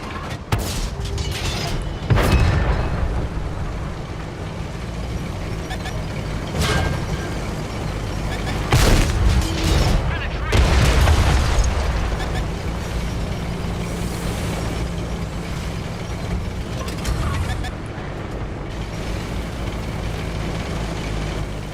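Tank cannon firing premium shells in a tank video game, several deep booming shots spaced through the clip over steady engine rumble and mechanical noise, with someone talking at times.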